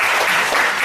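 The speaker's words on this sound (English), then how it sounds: "Can you please give one more applause?" A dense burst of audience applause at a product demonstration, loud and continuous clapping filling the brief moment.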